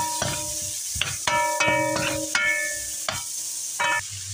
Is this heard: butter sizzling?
yes